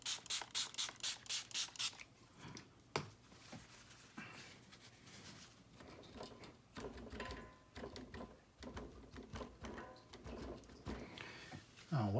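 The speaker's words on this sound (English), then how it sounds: "And let's give it a little spray." Short rhythmic hissing bursts from a spray bottle used on a watercolor painting open the clip, followed by scattered handling noises, soft bumps and brief quieter sprays.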